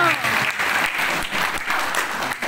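An audience claps at a debt-free financing presentation, a dense, steady wash of applause that swells and fades slightly over a couple of seconds, with some voices mixed into the crowd.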